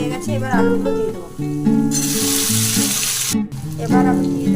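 Boiled potatoes dropped into a pan of frying onion and oil set off a loud burst of sizzling for about a second and a half, with background music playing throughout.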